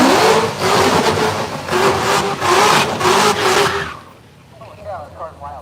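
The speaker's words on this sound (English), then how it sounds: "Holy cow, this car's loud." A Camaro and a C7 Corvette at a no-prep drag strip roar loudly with pulsing bursts of revving acceleration, then the engine noise drops away abruptly, leaving quieter background with voices.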